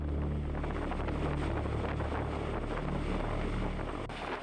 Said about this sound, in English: the CH-53K is a new generation heavy lifter with stronger engines, composite rotor blades, an upgraded drive system, and modern digital controls